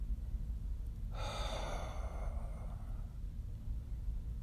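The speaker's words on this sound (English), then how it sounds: "Hear the hush of the airstream as you exhale." A single breath is let out through the mouth, a soft airy hush that starts abruptly about a second in and fades over roughly two seconds in a quiet room.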